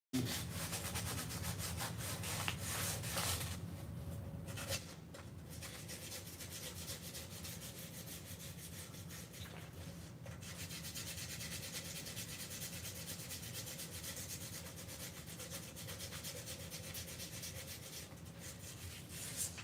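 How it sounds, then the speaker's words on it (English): Continuous abrasive rubbing of hand sanding runs close and steady for about twenty seconds, with brief pauses near the fifth and tenth seconds before the gritty scraping resumes. "Don't want to sand too much, but you do want to try to clean it"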